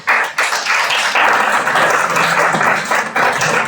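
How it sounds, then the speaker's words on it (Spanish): Audience applause for special guests at an event, a steady dense wash of clapping from a crowd that holds throughout. "Con este aplauso les pedimos a los invitados especiales, agradeciéndoles como siempre profundamente su generosidad"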